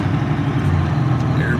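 A 1982 John Deere 8850 V8 tractor engine runs steadily from inside the cab, a loud, constant low rumble with no breaks.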